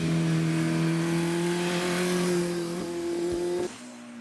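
A Honda 450 cc motorcycle engine, fitted with an owner-built frame, holds a steady, loud droning rev close by that eases off and drops away near the end.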